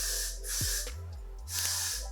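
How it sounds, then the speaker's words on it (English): Hair spritz sprays onto the front of a person's hair in two short, close hissing bursts separated by a brief pause. "Now, I'm gonna go back in with my spritz and just spritz the front of my hair."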